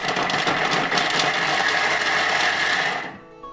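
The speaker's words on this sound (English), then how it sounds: "that was 3 seconds of chopping up your cheese" A Thermomix TM6 chops cheese at speed 8 for three seconds, a loud, dense whirring grind that holds steady and then cuts off sharply, leaving quiet.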